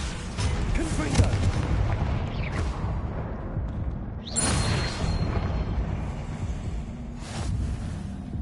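Confringo fire spell blasts in Hogwarts Legacy gameplay: booming bursts with swooshing rushes over a dense, continuous bed of game noise.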